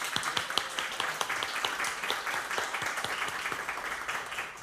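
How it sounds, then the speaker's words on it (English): An audience at the 2023 Immigrants Lead Boston graduation claps steadily with many overlapping hand claps. The applause runs continuously at moderate loudness, with no speech over it. "Let's begin by giving a round of applause for the class of"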